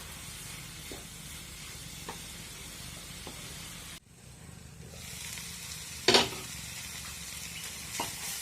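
Steady sizzling of raw breadfruit frying in a pan, with occasional scraping as it's stirred and a sharper clatter partway through.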